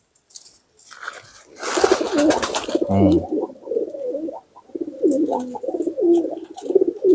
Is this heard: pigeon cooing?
yes